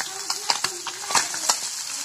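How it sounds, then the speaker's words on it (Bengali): Fish fry in a wok with a steady close sizzle, broken by several short clattering stirs and scrapes. "মাছ ভাজা হচ্ছে"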